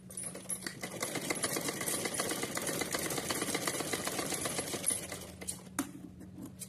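A sewing machine runs steadily while stitching a small Kanha ji outfit, its fast, even motor whir and needle rhythm close and continuous, easing off briefly near the end.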